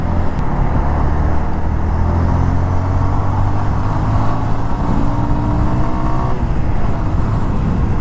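A Yamaha FZ25 motorcycle engine drones loudly and steadily, its pitch climbing as it revs up through the gears, then dropping off near the end; constant close vehicle noise throughout.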